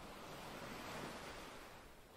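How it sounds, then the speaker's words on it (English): Ocean surf washes back off a black sand beach, a steady broadband rush of receding water that swells slightly and eases, close and continuous with no voices. "As the waves recede, they leave behind a wet reflective sheen on the sand"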